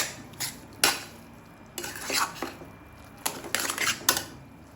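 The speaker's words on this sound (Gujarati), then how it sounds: "હજુ તો 5 મિનિટ હું શેકીશ પ્રોપર." Mahaprasad roasting in ghee in a pan, stirred with a spoon that gives sharp intermittent metallic scrapes and clinks over a soft background sizzle, close and moderately loud, no talking.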